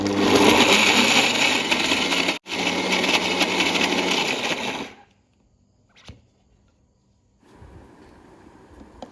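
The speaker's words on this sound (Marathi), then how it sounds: "लाल कलरची चटणीचं मिश्रण थंड झालं आहे ते पण आपण आता मिक्सरला काढून घेतो आहे" A kitchen mixer grinder churns a red pineapple chutney mixture, a loud, harsh whirring that breaks off for an instant, runs on for a few seconds more, then stops, leaving faint clatter and a quieter rustle.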